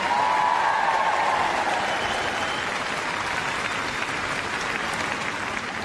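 Large indoor crowd at Crufts 2018 claps and cheers steadily for an RAF display team, a thick continuous wash of applause that stays loud and even from start to finish, with a brief shrill cheer near the beginning.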